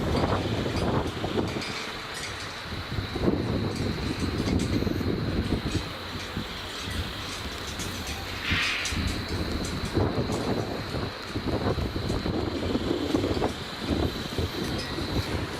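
Strong wind buffets the microphone atop the stairs at Simtokha Dzong in Bhutan, a constant roaring rumble with gusting surges throughout and no talk.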